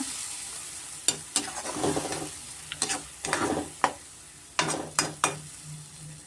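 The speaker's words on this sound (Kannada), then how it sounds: "ಹಸಿ ಮಸಾಲೆ ಆಗಿರೋದ್ರಿಂದ ಸ್ವಲ್ಪ ನಾವು ಚೆನ್ನಾಗಿ ಫ್ರೈ ಮಾಡ್ಕೊಬೇಕಾಗುತ್ತೆ" Raw masala fries in oil in a pan for an aloo fry curry, a soft sizzle broken by sharp, repeated clicks and scrapes of a spatula against the pan, close and without talk.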